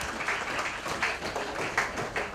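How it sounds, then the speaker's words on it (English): Audience applause at a medical quiz event, a steady wash of many hands clapping throughout, fairly close and even, with no talking over it. "I think she deserves the audience prize and a big round of applause."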